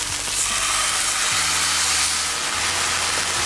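Steak searing in a hot pan, a loud, constant sizzle and hiss of frying with a low background hum underneath and no voices.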